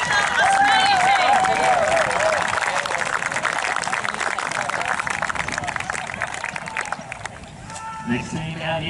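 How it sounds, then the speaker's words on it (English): Crowd applauding the regional Australia team at the Oceania Championships opening ceremony at Jezzine Barracks, Townsville, a broad outdoor wash of clapping and cheering under a loud announcer's voice. "Give a big round of applause to the regional Australia team."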